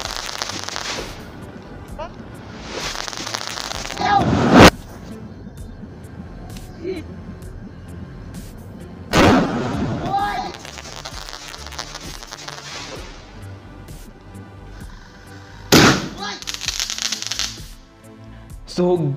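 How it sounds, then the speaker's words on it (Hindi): A homemade sky shot firecracker made from pipe and Kit Kat crackers, lit after dark outdoors, giving sharp loud bursts at intervals with crackling between them while someone talks. "अंधेरा होने के बाद मैं ये पटाखा जलने वाला हूँ"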